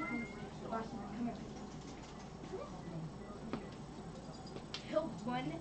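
A cat meows a few times indoors among moving boxes, short calls heard under ongoing nearby talk.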